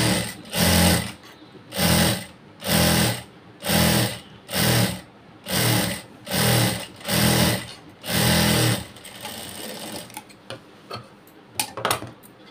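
A sewing machine stitches cloth in eight loud, even bursts of rapid mechanical whirring, each about a second long with short pauses between, then stops into quieter handling clicks and taps.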